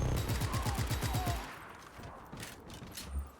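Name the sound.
machine gun fire in video game Just Cause 3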